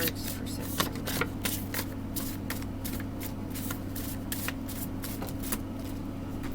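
Tarot cards shuffled by hand, a rapid series of close, crisp riffling flicks and slaps repeating across the stretch over a low steady background hum.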